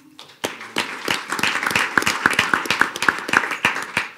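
An audience claps at a school board meeting as schools are recognized, scattered claps that build into steady, moderately close applause lasting several seconds.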